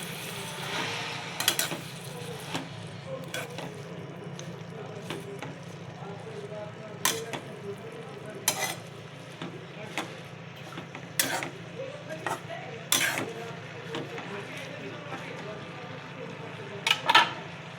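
A spatula stirs a dry fenugreek leaf (methi) stir-fry in a pan, giving sporadic light clinks and taps of utensil on metal over a quiet, steady background hum.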